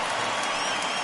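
A baseball crowd at a 1983 ALCS playoff game between the Blue Jays and Orioles cheers a fielder's choice play, a dense, loud wash of stadium noise filling the whole moment.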